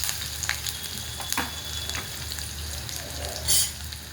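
Chopped onion and curry leaves fry in a hot pan for a Marathi bottle gourd and tomato vegetable dish, giving a steady close sizzle with a few brief clinks and stirring scrapes. There is no talking.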